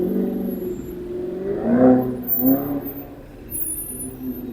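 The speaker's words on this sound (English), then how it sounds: "Got Audi R8 V10." Audi R8 V10 supercar passing close on a roundabout at night in Marbella, its engine swelling twice in brief revving surges over a steady road rumble, with no talk.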